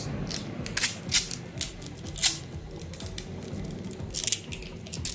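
Adhesive tape is pulled and wrapped around the tip of a spatula in an auto body dent-repair workshop, giving several sharp crackling rips and rustles close by with quieter handling between them.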